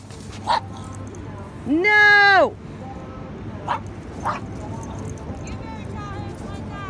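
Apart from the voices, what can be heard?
beagle dog barking and whimpering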